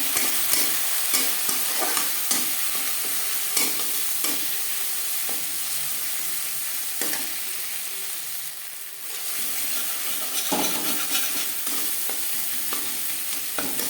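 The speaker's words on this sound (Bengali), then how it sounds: "কাঁচা গন্ধ যাওয়া পর্যন্ত নাড়াচাড়া করে দেবেন আর লাগছে পরিমাণ মতো হলুদের গুঁড়ো" Spices with turmeric stirred and fried in a pan while cooking vegetable chop filling, a steady close sizzle with repeated spoon scrapes and clicks running throughout, no voices.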